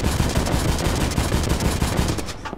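Tank gunfire in Gates of Hell: Liberation, a loud, rapid, continuous burst of automatic shots rattling close by for a couple of seconds before cutting off.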